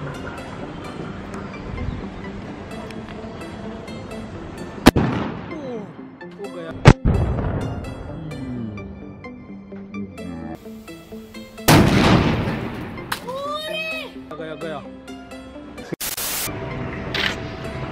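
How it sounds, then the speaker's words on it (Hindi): Diwali firecracker bomb set off with a toy gun: several sharp, loud bangs spaced seconds apart, with crackling, fizzing and a short whistling screech between them, close by and outdoors. "अब हम अपने इस गन से इस बॉम्ब को फोड़ने वाले हैं।"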